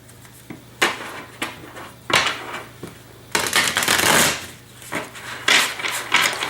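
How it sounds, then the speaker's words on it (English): Tarot cards being shuffled up close, with repeated riffling bursts and soft slaps of the deck at an uneven rhythm, no talking. "I'm going to go ahead and shuffle one more time."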